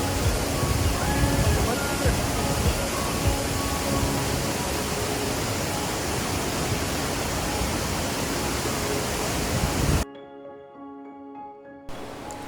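Chumi Gyatse, a holy waterfall in Arunachal Pradesh near the China border, gives a loud, steady roaring rush of falling water for ten seconds before the sound cuts abruptly to a much quieter background.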